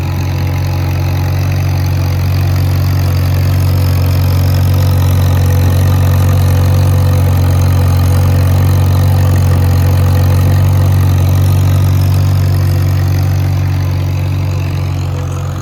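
Farmall 140 tractor engine running steadily at a constant loud idle-like drone, close up and uninterrupted, with no voices, while working a field discing cover-crop overgrowth.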